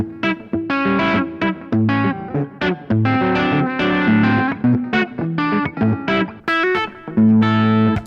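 An electric guitar plays a bouncy, steady rhythm with alternating bass notes and chords, clean and slightly effected, no voices.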